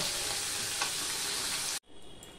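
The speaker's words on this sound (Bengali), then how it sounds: "টক যেহেতু ভাজতেই হবে, আমি 2 ব্যাচে মাছটা ভেজে নেব।" Small fish frying in hot oil for a sour fish curry, a steady loud sizzle that cuts off abruptly near the end, then resumes more softly.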